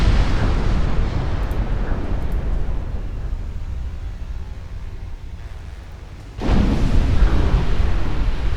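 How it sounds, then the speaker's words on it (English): Austrian heavy cruisers explode and burn in the naval battle game Ultimate Admiral Dreadnoughts: a long, loud roar of rumbling noise fades slowly, then a fresh booming burst hits and sustains. "Flash fires. Something exploded."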